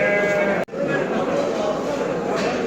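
Sheep bleat in a sustained, wavering cry close by at the Göksun livestock market in Turkey, with sheep and goat noise and a brief cut midway through.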